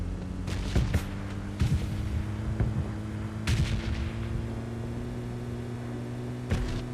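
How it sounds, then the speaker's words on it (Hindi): Gunfire in the PUBG Mobile Lite video game, a scattered series of sharp shots and short bursts over a steady low vehicle hum, some close and loud, others softer and more distant. "तो अब मुझे सामने से कुछ फायर की साउंड आ रहे थे"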